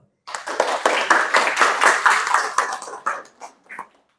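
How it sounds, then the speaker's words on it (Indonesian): A university classroom audience claps in quick, loose unison for a few seconds, close and fairly loud, then thins to a few scattered final claps before stopping. "Tepuk tangan dulu."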